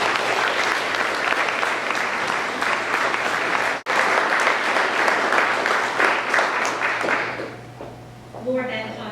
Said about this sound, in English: Let's go ahead and do a round of applause.